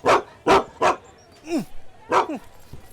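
A dog barks aboard a bus: three quick loud barks, then a whining yelp and another bark, close by, with people talking around it.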